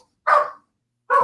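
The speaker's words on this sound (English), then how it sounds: "Sorry about the dogs." Two short, sharp dog barks ring out close by, about a second apart, with silence between them.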